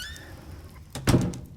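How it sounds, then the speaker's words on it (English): A front door swinging shut at night, a soft squeak and then a solid thunk at close range, with insects chirping faintly in the background. "Let me close the front door."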